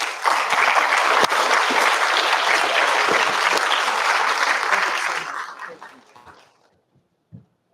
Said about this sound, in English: Let's give the councilman another round of applause